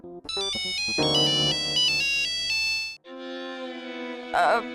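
A phone ringtone plays a bright electronic melody, then shifts to a sustained buzzy tone, with a brief voice-like burst near the end.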